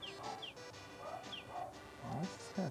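A dog in Harvest Moon Friends of Mineral Town gives short, chirpy electronic yips in a repeating pattern, fairly quiet against a soft game music bed.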